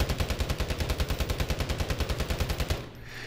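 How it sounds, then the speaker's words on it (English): Rapid hip-fired bursts from a Hemlock rifle on a video game shooting range: about twenty close, loud shots in a steady rhythm that stop abruptly near the end, with no talking. "First, I'm just going to hip fire and not try to control the recoil."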